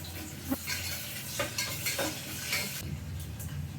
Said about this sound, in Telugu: ఉల్లిపాయలు అయితే వేగిపోయినాయండి